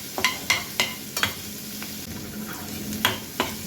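Chopped onions sautéing in a pan until turning pink for paneer bhurji, a steady close sizzle punctuated by sharp scraping strokes of a spatula, several quick strokes at first, then a pause and two more, no talking.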